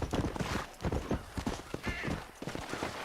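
Horse hooves clip-clopping in the video game Red Dead Redemption, a quick, steady rhythm of close hoofbeats with a faint whinny partway through and no talking.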